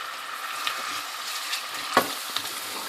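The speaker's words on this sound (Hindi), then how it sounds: "ये प्याज हल्का सा फ्राई हो गया। अब मैं इसमें अदरक लहसुन का पेस्ट भी डाल देती हूँ।" Onion with ginger garlic paste fries in hot oil, a steady close sizzle with light stirring and one sharp clack of a utensil against the pan partway through.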